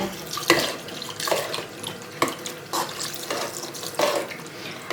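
Cold tap water runs and splashes into a sink, with uneven gushes and clatters as homemade butter is rinsed under the stream.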